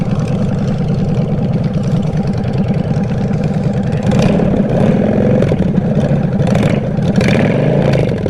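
A Honda Shadow 750 bobber motorcycle engine runs loud and close with an uneven, loping V-twin beat, idling and then blipping up with throaty revs.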